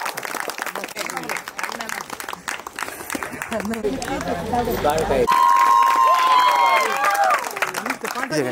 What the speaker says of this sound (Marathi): चला जोरात टाळ्या